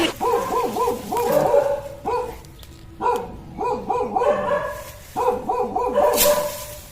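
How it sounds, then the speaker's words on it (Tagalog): Several barks from a tethered dog, heard in repeated bursts of three or four sharp yaps with short pauses, fairly close and loud, with no speech over them. "Ay, may aso."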